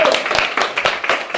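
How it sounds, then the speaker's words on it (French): A crowd at a comedy evening breaks into brief, lively applause, quick overlapping claps in a short burst with a few sharper individual hits standing out. "Un tonnerre d'applaudissements pour le retour de Casté."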